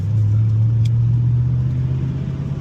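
A manual Ford Mustang GT engine holds a loud, steady low rumble close by, with a faint tick partway through and slight tapering at the end.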